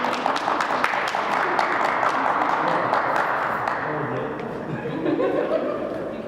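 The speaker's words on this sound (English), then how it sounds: "Round of applause for the president." A seminar audience claps for the president at a first-time homebuyers event, a dense round of applause with a few chuckles that slowly thins toward the end.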